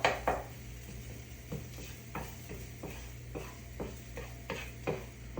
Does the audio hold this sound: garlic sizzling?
yes